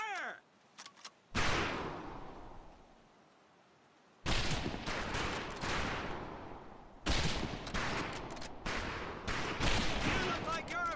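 Rifle fire on a training range in Medal of Honor Pacific Assault: loud, close shots come in separate volleys, each ringing out with a long echoing tail between bursts.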